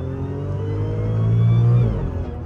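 Supercharged Audi S4 engine revving up and easing off, a steady mechanical drone with a rising blower whine layered on top, loud and close with no talking.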